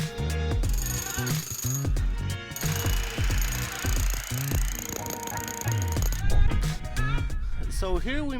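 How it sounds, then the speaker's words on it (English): Kango breaker chipping old tiles off a balcony: rapid bursts of percussive hammering with short pauses between them, sounding close and harsh throughout. "here we made a hole using the Kango and we were taking the tiles off"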